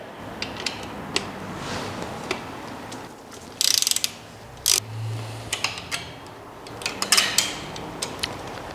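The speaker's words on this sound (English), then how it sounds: "I'm going to use a 3mm Allen key to undo the mudguard stays." A 3mm Allen key undoing the mudguard stays on a Brompton folding bike, with small metallic clicks and ratcheting taps scattered over a quiet room and a burst of rattling mid-way.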